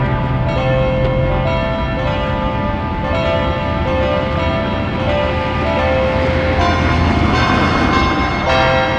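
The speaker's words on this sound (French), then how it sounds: "la seule musique où est-ce qu'on n'en trouvera pas, c'est les cloches de l'Angélus" Angelus church bells ring in full, overlapping peals that sustain and blend throughout, loud and continuous with no speech.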